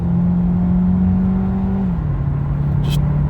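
A Ford Focus with a DPS6 dual-clutch gearbox is driven in traffic, its engine holding a loud, steady hum that drops in pitch partway through as it shifts, with a brief click near the end.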